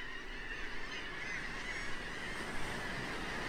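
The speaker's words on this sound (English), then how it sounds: "she's eyeing down those seagulls" Seagulls honk and call repeatedly on a beach at Myrtle Beach, South Carolina, their harsh cries layered over steady wind and surf noise, moderately distant, with no talking.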